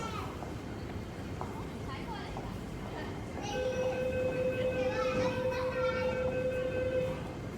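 An MTR C-train at Tsuen Wan West Station platform, with a steady tonal whine rising as it moves and rail noise beneath, while people and children talk nearby.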